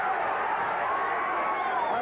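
Boxing arena crowd at the Michael Spinks vs David Sears fight, a steady roar of many voices swelling slightly as a punch glances off.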